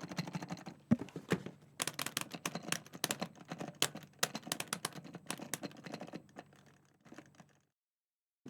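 Clicking from a fight stick's joystick and arcade buttons, a dense run of sharp, close taps and rattles in quick irregular bursts that thin out and stop near the end.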